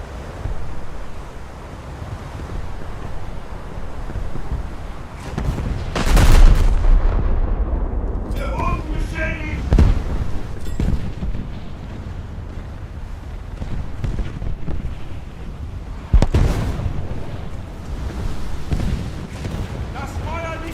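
Battleship guns fire in a naval video game with a couple of heavy, booming blasts over a constant wash of sea and wind, the big shots standing out loudly from the background rumble.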